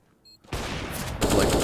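Pistol fire in a Counter-Strike pro match, with P250 pistols shooting from long range, loud and dense, erupting suddenly after a faint click and intensifying toward the end.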